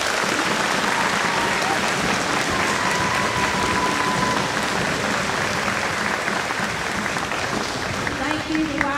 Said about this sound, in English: I want you to clap real big for First Lady Justice.